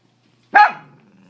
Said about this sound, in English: 5 million hours later, and you're still barking